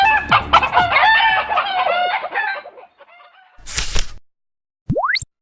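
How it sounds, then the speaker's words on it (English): Chickens clucking and crowing in a coop, a dense run of close, loud rooster and hen calls, followed by a short burst of noise and a rising whistle-like tone. "Kinda like being a chicken in a coop, isn't it?"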